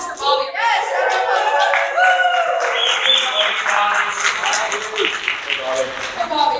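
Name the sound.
audience applause for Bobby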